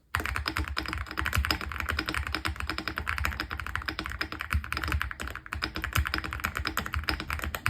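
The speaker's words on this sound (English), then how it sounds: "So that is the sound of this keyboard." Fast, continuous typing on a mechanical keyboard fitted with glowing KeyTok keycaps and mint ice cream switches, a dense clatter of keystrokes close to the mic with no talking.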